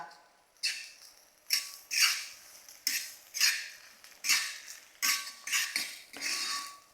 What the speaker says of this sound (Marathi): सोया सॉस आणि लिंबाचा रस आता मस्त असा परतवून घ्यायचा